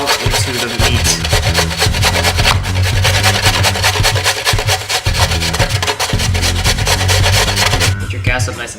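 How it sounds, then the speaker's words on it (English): A whole carrot rasped against a grater in a kitchen, a steady, continuous scraping with a rapid stroke rhythm that stays close and fairly loud throughout. "this is a whole carrot, just grate it"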